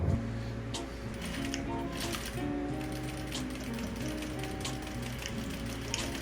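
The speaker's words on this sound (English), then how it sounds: "So I'm gonna sew all the way around for the bottom." A sewing machine runs steadily, stitching the waistband onto the bottom of a patchwork denim jacket, its needle mechanism giving a continuous mechanical clatter and whir close by with no talking.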